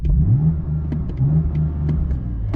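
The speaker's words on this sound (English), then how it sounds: "Let's do a quick rev test as well and see what you guys think" A BMW M4 Competition engine with a soft limiter revs up and down repeatedly, loud and close, its pitch rising and falling over a throaty idle.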